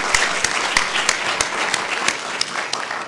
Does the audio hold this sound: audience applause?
yes